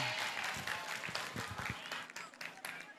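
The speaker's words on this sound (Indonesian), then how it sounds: "Tepuk tangan." Audience clapping and applause at a Ramadan religious gathering in Purwakarta, a dense patter of many hands, fairly faint and steady over three seconds.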